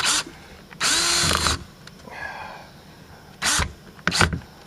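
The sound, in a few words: power drill pre-drilling holes in plywood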